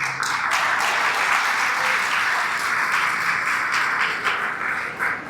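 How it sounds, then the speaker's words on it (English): A room of guests at a chamber of commerce awards celebration gives the board a warm round of applause, loud, dense clapping that carries evenly for several seconds. "So a round of applause for the board."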